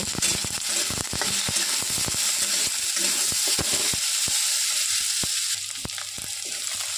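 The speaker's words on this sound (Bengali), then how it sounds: "পেঁয়াজ আর রসুন বাটাটা দিয়ে দিলাম তেলের উপরে, আলুর সাথে একসাথে ভেজে নেব" Potato pieces frying in hot oil with onion and garlic paste added, a steady sizzle broken by sharp clicks and scrapes of a utensil stirring in the pan.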